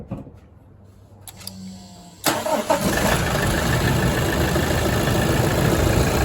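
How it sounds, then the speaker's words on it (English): A car engine is cranked by the starter and fires up, settling into a loud, steady running idle for several seconds after a quiet, faintly clicking start. "can you please start the engine?"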